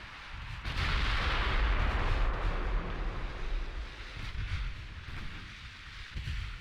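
A naval gun salvo from warships in Ultimate Admiral Dreadnoughts booms out as a heavy, rolling rumble that swells, sustains for several seconds, then fades with some wind-like noise.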